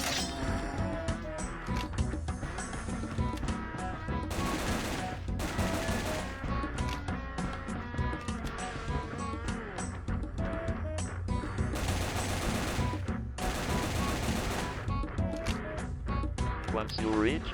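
Rapid bursts of automatic gunfire from a Roblox zombie game's placeholder gun system come in clusters over a busy game soundtrack, while a person talks throughout.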